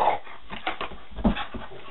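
Dogs whimper and yip over a chewed, deflated squeaky toy, short whines and soft vocal bursts coming in uneven bursts close by with no talking.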